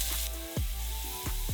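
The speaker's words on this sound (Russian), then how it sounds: "Сначала обжариваем лук." Onion sizzles steadily in a hot pan of butter and white truffle oil, a bright crackling hiss with a few clinks of a utensil stirring.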